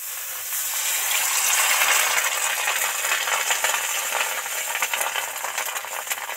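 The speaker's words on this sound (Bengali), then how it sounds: "এবার ডিমটা তেলের মধ্যে আস্তে আস্তে ছেড়ে দেবো।" Katla fish roe sizzles steadily in a small amount of hot oil in a pan, a loud, continuous crackling hiss with faint scattered pops and no talking.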